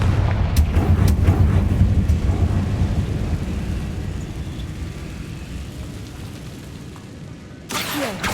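A Confringo blasting spell explodes in Hogwarts Legacy, played on PC, with a loud, deep boom rolling and fading over several seconds, and a sharp crackle bursting in near the end.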